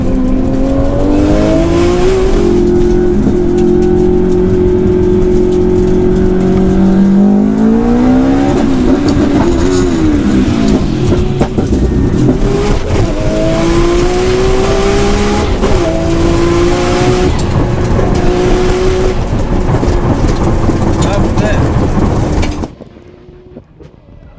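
Subaru Impreza WRX and Nissan R34 Skyline in a race, engines roaring loudly together as they accelerate hard through rising revs and gear shifts, with occasional tyre noise, before the sound cuts off abruptly near the end.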